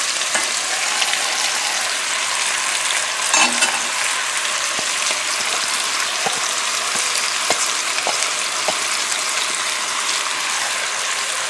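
Vegetables and fresh garlic sauté in rendered short rib grease for a white bean chili, producing a loud, even sizzle with scattered clicks and a scrape of stirring.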